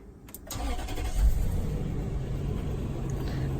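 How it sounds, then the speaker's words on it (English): A Toyota Land Cruiser 200 Series cranks briefly and its engine catches, settling into a steady close, low rumbling idle. "Let's go ahead and turn this vehicle on."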